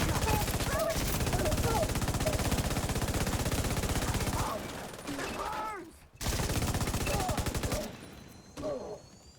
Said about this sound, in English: When the mortar fired there